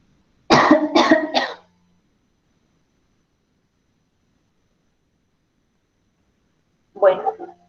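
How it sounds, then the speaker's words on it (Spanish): A person coughs three times in quick succession during a class session, fairly close and clear, then silence follows before a single short cough or throat clearing near the end. "Ay, profe, la tos."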